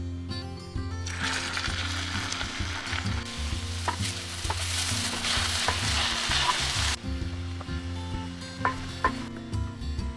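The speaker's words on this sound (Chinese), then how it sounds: "加入切好的蒜末，蒜炒出香味之后，放入切好的培根片" Bacon slices and minced garlic frying in a pan, a loud steady sizzle that swells into a hiss midway, then settles, with occasional spatula taps and scrapes close by.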